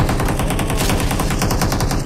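Automatic gunfire in the mobile battle royale game PUBG Mobile: a loud, close, rapid burst of evenly spaced shots runs without a break for about two seconds, with no talk over it.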